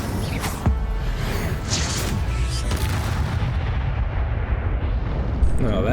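A fiery spell in Hogwarts Legacy lands as a series of loud booming bursts and crackling blasts over a dense roar that fills the whole stretch.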